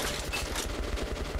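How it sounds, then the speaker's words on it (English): Rapid automatic gunfire in the video game Metro: Last Light, a quick string of close, loud shots in even rhythm over about a second and a half. "Whatever that piece is, I'm shooting it."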